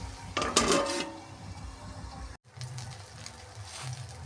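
A metal lid clatters onto a kadai of steaming gima greens (shak bhapa) in a home kitchen: a brief, close rattle near the start, then quiet low simmering and faint handling noises.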